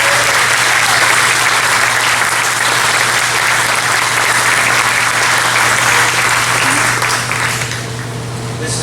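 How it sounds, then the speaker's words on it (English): Steady, dense applause from a room of attendees at a homeowners' association annual meeting in New Bern, North Carolina, holding loud and even for about eight seconds before easing slightly at the end. "please join me in a round of applause"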